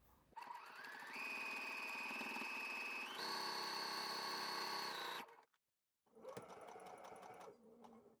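A sewing machine stitching fabric for a French seam, running steadily close by with a buzzing whir that rises in speed twice, stops briefly, then runs again for a shorter burst.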